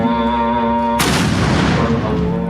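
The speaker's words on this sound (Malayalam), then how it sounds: "വാഴക്കാട് വലിയ ജുമാഅത്ത് പള്ളിയിൽ നിന്ന് ഈ പൊട്ടുന്ന വെടിയെ പ്രതീക്ഷിച്ചുകൊണ്ടാണ് അവർക്ക് നോമ്പ് തുറക്കാറുള്ളത്" A single loud kathina ceremonial gun blast fired from a large Juma mosque to mark breaking the Ramadan fast booms suddenly over a steady hum, then rumbles and decays.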